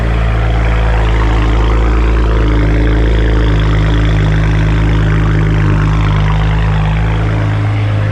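A BMW E92 335i with the N54 engine and newly installed downpipes idles loudly and steadily nearby, a deep continuous exhaust drone with no talking.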